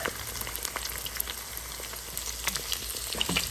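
Two eggs and garlic fry loudly in a hot pan beside pushed-aside rice, a dense steady sizzle and crackle with scattered pops and light spatula scrapes, close and without talk.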